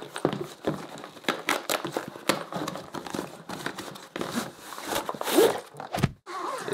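A zipper on an electronic drum gear bag is pulled in quick, rasping strokes, with rustling fabric and handling noise between pulls, close and fairly loud.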